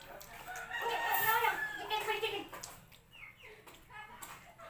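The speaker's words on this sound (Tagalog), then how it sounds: "Manok." A rooster crows once in a rural Bicol yard, a loud drawn-out call that rises and fades over a few seconds, followed by quieter background sounds.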